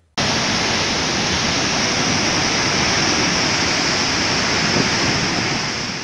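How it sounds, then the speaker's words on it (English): Roaring water of the 43-metre Murchison Falls in Uganda, a loud, constant, close rush that cuts in abruptly and holds steady with no speech. "Murchison Falls National Park in the northwest that is known for its 43 meters tall waterfall"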